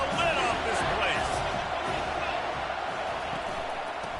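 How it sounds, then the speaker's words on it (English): A packed stadium crowd roars steadily in a college football video game matchup of Georgia State against Oregon, a dense constant din with whoops and cheers, under excited commentary. "3rd down, and this crowd is tearing the lid off this place."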